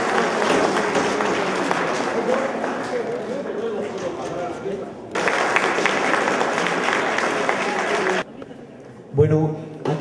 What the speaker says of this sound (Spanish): Unas palmas, por favor, para el señor Carlos Rincón